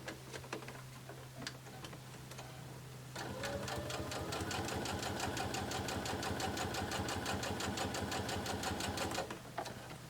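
A domestic sewing machine stitches two quilt pieces together, first a few clicks and a low hum, then a fast, even run of rapid needle ticks for several seconds before it stops.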